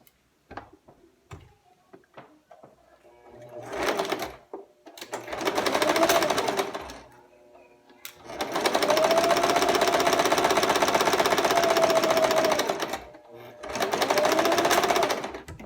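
Sewing machine stitching a waistband seam, running in several close bursts of steady whirring with short pauses between, the longest run lasting about four seconds, with a brief backstitch and forward stitch to lock the seam.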